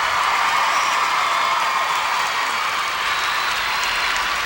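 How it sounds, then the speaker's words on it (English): A large arena crowd at a gymnastics competition applauds steadily, a dense, even wash of clapping that holds loud throughout with no voices standing out. "Well, listen to this crowd."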